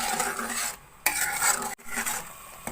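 A spoon stirring sugar syrup into roasted semolina halwa in a pan, scraping and sloshing in uneven strokes with brief pauses and a sharp clack, close and fairly loud with no talking.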